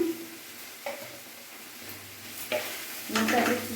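Half a spoon of ghee sizzles in a pan with banana flower, a soft steady hiss broken by a few spoon scrapes and a louder stirring rustle at the end.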